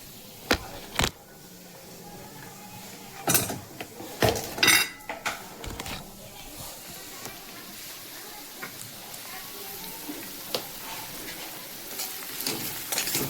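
Onion fries in a pan with a pinch of salt while making rassa matki, a low steady sizzle beneath sharp metallic clinks and scrapes of a spoon against the pan, with a few quieter knocks later.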